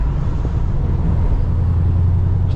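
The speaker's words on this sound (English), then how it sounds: "Idling just fine." A supercharged car engine idles steadily out of gear, a constant low rumble held close and even throughout with no revving.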